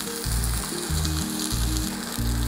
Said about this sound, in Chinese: 你先再去煎第二面。